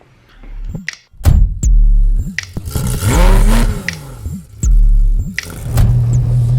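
A Honda S2000 engine revs hard through repeated bursts of acceleration. Pitch climbs sharply and then drops with each gear change, punctuated by loud thumps, close and loud, with no talking.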